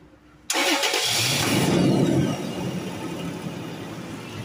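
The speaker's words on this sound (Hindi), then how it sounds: "अभी हम गाड़ी स्टार्ट कर रहे हैं," A Toyota Fortuner's engine cranks and catches after a moment of quiet, then settles into a loud, steady idle nearby, with the revs dropping slightly after a couple of seconds.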